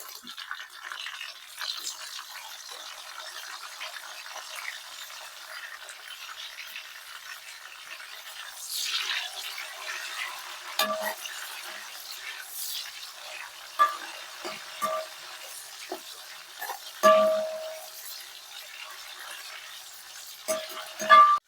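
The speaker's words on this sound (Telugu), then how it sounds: "తరిగి పెట్టుకున్న టమాటా ముక్కలు వేస్తాను" Chopped tomato pieces sizzle and fry in hot oil in a pan for a fish head curry, a steady close crackle with occasional stirring and scraping clinks, no talking.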